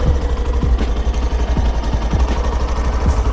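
A Hero Passion Pro BS6 motorcycle idles with a steady, close exhaust thrum, its low pulsing rumble even and unbroken, with faint periodic ticks throughout.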